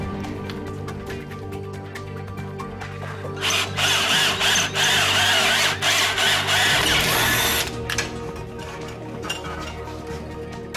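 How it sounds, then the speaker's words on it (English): A power drill runs in one loud burst of about four seconds while assembling a humpback whale skeleton in a museum, over a busy background of metallic clinks and clatter. "Josh, can you give me the drill?"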